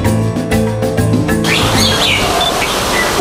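Birds chirping in a heritage tree, short high tweets and calls rising above a loud, busy outdoor background that carries a low droning tone for the first moments, with no speech.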